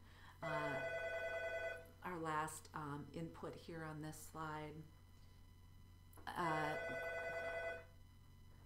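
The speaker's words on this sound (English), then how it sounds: "pardon the phone ringing" A desk telephone rings in an office, a steady harmonic electronic ring in two long bursts at the start and near the end, moderately loud, with a person lecturing in between.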